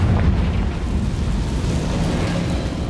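Blasting-spell explosions from Hogwarts Legacy boom and rumble loudly, a continuous heavy roar of blasts with deep low-end weight sustained throughout, close and dominant.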